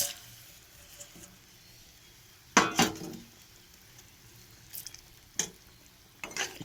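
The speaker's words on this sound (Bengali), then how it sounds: "তরকারি ঝোলটা ফুটে উঠেছে, আমি সব মাছগুলো এক এক করে ঢেলে দেবো" Pieces of Bhola fish are dropped one by one into a simmering mustard curry, producing a quiet bubbling bed punctuated by several distinct splashy thuds and clinks spaced a second or two apart.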